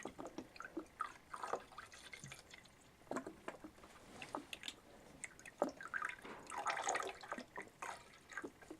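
Garden-variety 3% hydrogen peroxide poured into a mixture, giving faint irregular splashes, drips and squishy liquid sounds in quiet bursts, close and soft, no talking.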